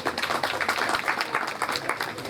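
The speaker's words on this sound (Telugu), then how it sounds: "ఒకసారి క్లాప్స్" A crowd at an outdoor public gathering claps continuously and fairly loudly, with steady applause lasting the whole moment and a faint murmur of voices underneath.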